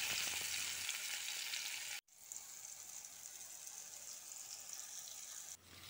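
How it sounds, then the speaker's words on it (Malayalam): Chopped onion and tomato fry in a hot pan, a bright crackling sizzle that cuts out briefly as the pan is stirred, then resumes steady and close before dipping again at the end. "ഉള്ളി ഒന്ന് മൂത്ത് വന്നതിന് ശേഷം ചെറിയൊരു കഷ്ണം തക്കാളിയും കൂടി ചേർത്തിട്ട് ഒന്ന് നന്നായിട്ട് ഇളക്കി കൊടുക്കുക."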